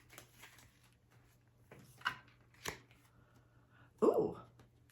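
A deck of oracle cards is shuffled by hand, giving a few quiet, sparse riffling and flicking bursts over a low hum, the loudest riffle coming near the end, with no talking.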